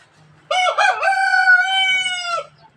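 A Basilan rooster crows once, loud and close, a single long cock-a-doodle-doo lasting about two seconds against a quiet background.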